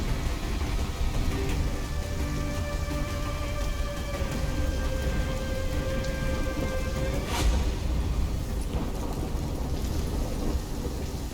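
Steady rain pours in a thunderstorm within the Call of Duty Black Ops 3 video game, a dense constant hiss broken midway by a sharp thunder crack that rumbles on under the downpour.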